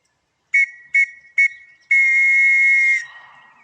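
A clear whistle sounds three short blasts followed by one long blast, the Morse pattern for V, loud and close with a faint hiss after.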